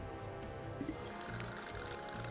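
Peach schnapps and vodka are free-poured from bottles into a glass for a Halloween mixed drink, a quiet, brief trickling splash of liquid heard close up.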